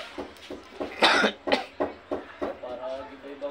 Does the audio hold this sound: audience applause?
no